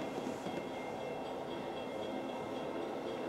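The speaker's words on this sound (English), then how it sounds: "a manifest train that I happened to see not too long ago that is bound for the Norfolk ports with Beltline" A manifest freight train bound for the Norfolk ports rolls past with a steady, dense rumble and rattle of cars, a continuous even roar at moderate distance with no voices.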